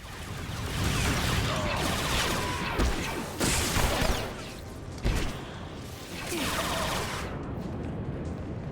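Blaster fire aimed at the player in Star Wars: The Old Republic on Corellia, a loud, dense spray of shots in several bursts with short pauses between them.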